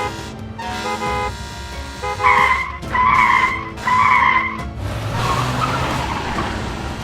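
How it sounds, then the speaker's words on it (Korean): A speeding car with failing brakes skids with screeching tires to dodge an oncoming large trailer truck, while three loud horn blasts ring out in a row before the skid trails off. "서기는 간신히 다가오는 큰 트레일러 차를 피했다"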